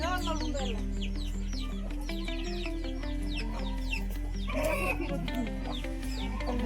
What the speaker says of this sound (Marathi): पहा मित्रांनो किती साऱ्या कोंबड्या आहेत